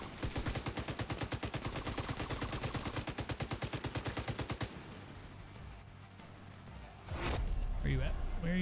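AK rifle fired in the video game The Division 2, a loud rapid automatic burst of closely spaced shots lasting several seconds, then a quiet gap and a later heavy impact with a brief voice.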